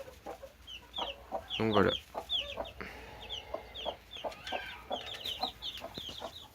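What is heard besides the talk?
Pekin and Brahma chicks and hens clucking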